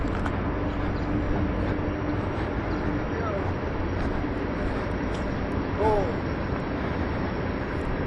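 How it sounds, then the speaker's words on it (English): A freight train rumbles past as a broad, steady roar with faint squeals and clanks, continuous throughout. "There's one of the trains."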